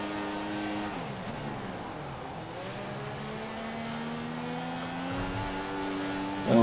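An F1 2014 race car in the video game at the Chinese Grand Prix qualifying, its engine whining steadily with pitch rising and falling as the wheels spin, a continuous moderately loud tone without talk.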